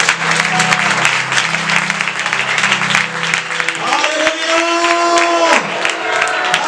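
A church congregation claps loudly and continuously, with cheering voices mixed in, and partway through a voice sings or calls out over the sustained applause.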